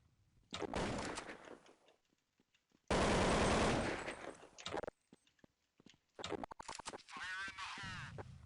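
Bursts of rifle gunfire in Counter-Strike 1.6, loud automatic volleys in several clusters with short gaps between them, some mixed with clattering game effects.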